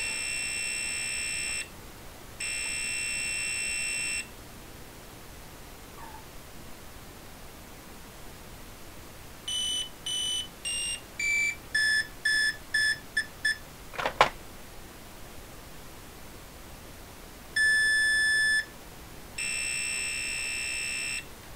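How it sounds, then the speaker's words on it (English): An Ideal Maniac electronic handheld game emits bright electronic beeps: two long tones, a rapid series of short stepped beeps with a sharp click, then two more long tones, all against steady background hiss. "once I hit 25 points, then it makes a bunch of beeps"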